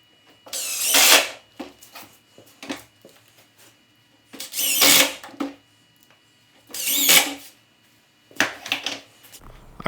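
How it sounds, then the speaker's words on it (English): A power drill drives Kreg pocket-hole screws to join boards for a farmhouse table, four loud whirring bursts separated by quiet pauses with small clicks and handling. "Then I'll come back and screw the boards together using Craig screws and the pocket holes"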